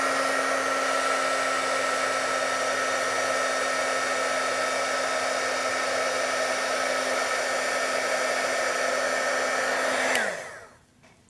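A heat tool blows and whirs steadily while melting clear embossing powder on a card, a loud continuous airy drone that cuts off abruptly near the end.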